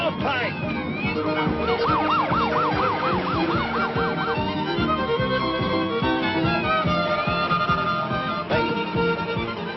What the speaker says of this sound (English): is that a siren I hear?